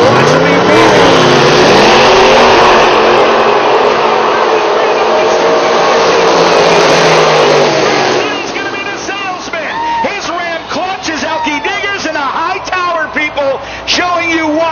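A 1940 Chevrolet coupe gasser launches hard at a Rockingham drag racing event, a loud, sustained engine roar that runs for about eight seconds before dropping away, leaving an announcer's voice over the crowd.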